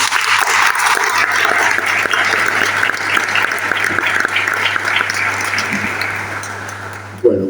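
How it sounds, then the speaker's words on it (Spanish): An audience at a political talk breaks into sustained applause to welcome a former Buenos Aires city legislator, dense clapping that holds steady for several seconds before trailing off. "Un fuerte aplauso para recibirlo."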